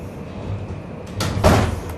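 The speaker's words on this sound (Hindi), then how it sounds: "भाई तो दरवाजा बंद कर बेटा" A door is pushed shut in a room, with a soft sliding sweep followed by a dull thud of moderate loudness over faint background noise.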